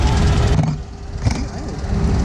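A car engine, among cars gathered at a Singapore meet with a Maserati nearby, revs close and loud, dipping briefly before surging again with rising and falling engine pitch; no one speaks over it.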